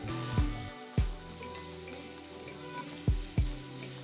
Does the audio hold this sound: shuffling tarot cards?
no